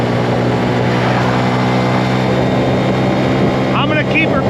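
A 2022 Honda Grom motorcycle with a modified sprocket accelerating in third gear on a slight downhill, its small engine droning steadily and loudly up close with heavy wind rush, a brief voice near the end.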